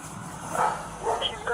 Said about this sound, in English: Just make sure that dog don't come out.